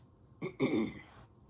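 A single short throat clearing, two quick rough bursts close to the mic, then quiet.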